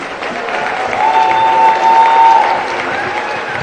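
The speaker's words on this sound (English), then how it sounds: "One last round of applause for these guys." A high school basketball crowd claps steadily throughout, a moderately loud wash of applause that swells slightly in the middle, with a faint tone running beneath it.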